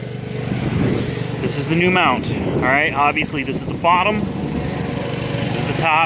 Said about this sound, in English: Sorry for the lawnmower noise. It's my neighbors.